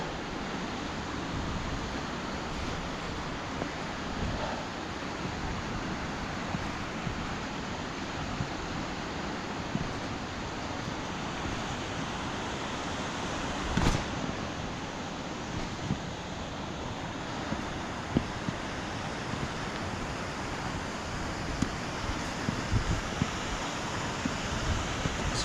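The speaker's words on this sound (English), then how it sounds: "it's pissing down the rain" Heavy rain falls steadily, a constant wash of noise with occasional wind buffeting against the microphone and a few brief knocks and taps, with no voices.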